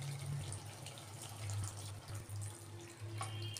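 Hot water being poured into a pan of simmering paneer curry, a steady close splashing pour that runs for several seconds without pause.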